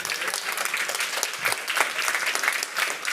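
Audience applauds at a Meta Avatars presentation, a steady dense clatter of many hands clapping throughout, fairly close and even in loudness, with no voices over it.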